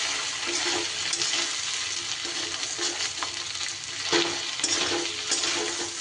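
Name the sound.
fish oil parts frying in a pan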